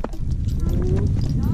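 Horse hooves clopping during a ride, a steady broadband patter of steps close by, mixed with rustling and handling noise throughout.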